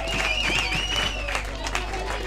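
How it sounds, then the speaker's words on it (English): Spectators at a European ultimate frisbee championship mixed-division match between Spain and Finland erupt in loud cheering and applause, a dense burst of crowd noise with commentary running over it. "the crowd goes wild here for Spain"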